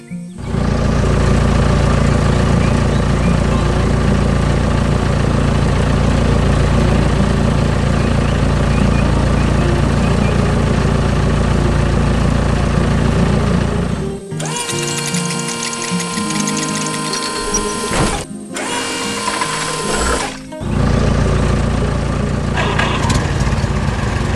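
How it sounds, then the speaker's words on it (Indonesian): A green construction machine's engine runs hard on brown dirt, a loud continuous droning rumble with steady harmonic whine that suddenly breaks off into brief choppy bursts and gaps before the drone resumes. "Mesin konstruksi hijau sedang bekerja keras di tanah berwarna coklat."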